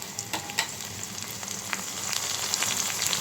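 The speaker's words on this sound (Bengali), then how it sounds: "এখন দিয়ে দিব পেঁয়াজ বাটা আর জিরা বাটা।" Onion paste and cumin paste going into onions already frying in a hot pan, a steady close sizzle and crackle with light stirring scrapes and no voices.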